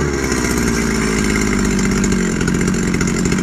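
A Husqvarna chainsaw with a fuel-flooding fault runs steadily at a loud, even idle, its two-stroke engine pulsing in a rapid, unbroken rhythm close by with no voices over it.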